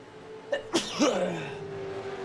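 One sharp sneeze bursts out close to the microphone, with a short intake before it, over a steady engine drone from a V8 Supercars sim race at Road America.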